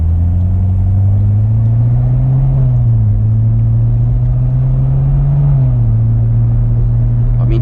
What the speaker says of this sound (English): I mean, just cruising, you can still hear this V8.